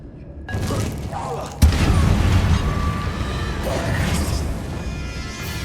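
A Confringo fire-blast spell explodes in Hogwarts Legacy, a sudden loud boom followed by a rumbling, crackling roar that lingers over the next few seconds.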